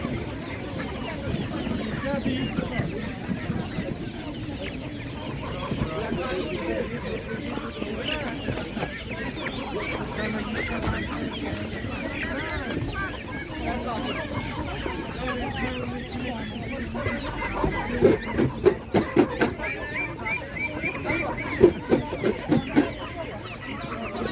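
Hens, laying hens and broilers for sale at a market cluck steadily, close and busy, with sharper bursts late on, while voices talk throughout.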